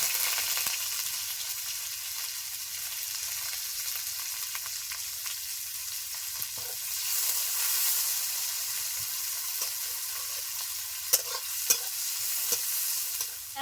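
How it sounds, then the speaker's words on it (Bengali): Chopped onion sizzles in hot oil with dried red chillies, bay leaf and whole cumin, a steady close frying hiss with occasional stirring clicks from the pan. "এখন দিয়ে দিচ্ছি পেঁয়াজ কুচি।"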